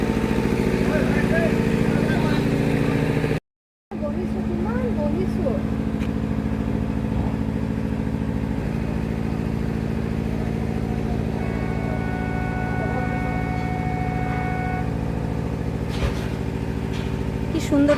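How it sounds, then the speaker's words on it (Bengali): A generator running near the Brahmaputra river at Umananda (Peacock Island) gives a continuous, steady mechanical hum with a droning tone. It stays constant throughout except for a brief dropout, with faint voices at times. "এখানে জেনারেটর চলছে সেই জেনারেটরের আওয়াজ হচ্ছে"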